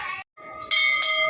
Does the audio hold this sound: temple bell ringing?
yes